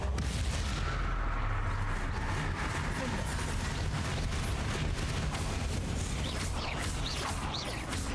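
Confringo blasting spell explosion in the Hogwarts Legacy video game: dense, continuous roaring blasts with booming low rumble and repeated sharp cracks throughout, loud and sustained, with faint game voices mixed in.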